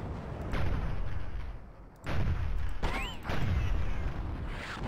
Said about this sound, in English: Look how inaccurate this weapon is.